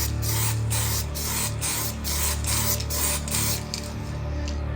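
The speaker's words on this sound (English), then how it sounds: "Okay, we're going to do some spray painting here. First coat is going to be black primer." Aerosol can spraying black primer onto a license plate, a loud close hiss in repeated short bursts with brief pauses, no talk.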